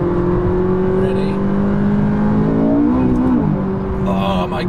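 McLaren 570S supercar engine pulling hard on an open road, a steady loud drone with rising pitch through the gears and a brief dip around a shift, heard from inside the cabin.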